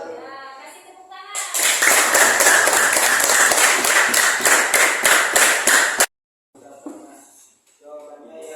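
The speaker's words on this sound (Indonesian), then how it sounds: "Kasih tepuk tangan." Classroom applause from a group of children, loud, fast dense clapping lasting several seconds before cutting off abruptly, followed by a short quiet gap and some speech.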